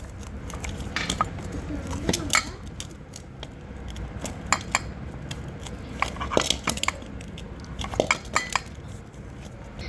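Spoon clinking and scraping around a bowl while masala raita is stirred with a little oil, giving a run of sharp, close metallic taps and clinks in uneven bursts over a soft background.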